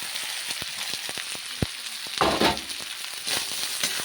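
Cooked rice frying with vegetables in a pan, a continuous sizzle broken by regular scraping strokes of a spatula stirring, with a louder burst of hissing midway, close and without talk.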